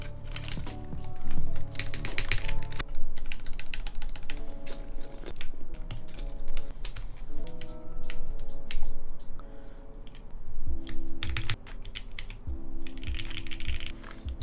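Steady close typing on a Monokei 910 keyboard fitted with CRP keycaps, a dense run of clacky keystrokes with occasional heavier thocks from larger keys and a faint musical backing underneath.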